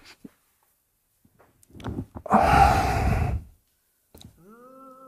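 A slow exhaled breath during a guided meditation, a single long airy sigh lasting about a second, close and fairly loud, set between short bits of quiet sound.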